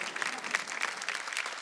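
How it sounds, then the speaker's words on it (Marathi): Applause for five women contestants on a Marathi TV game show, a brief burst of dense clapping from a studio audience. "5ही ताईंचा एकदा जोरदार टाळ्या झाल्या पाहिजेत."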